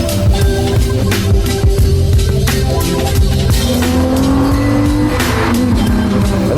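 A 1991 Volkswagen GTI drives hard nearby, its engine revving loudly and continuously with shifting pitch and sharp gear changes, no voices over the mechanical roar.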